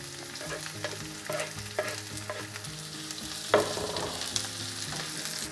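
Chopped garlic, onion and dried shrimp fry in hot oil for pizza sauce, sizzling steadily and close up, with stirring scrapes and one sharper clatter midway and no voices.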